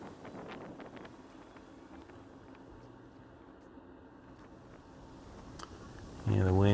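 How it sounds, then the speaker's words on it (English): Strong wind roars steadily around a Pavo20 Pro and DJI Avata 2 FPV drone in flight, a broad gusting rush, with a louder buffeting burst near the end. "the wind is not letting up in the least"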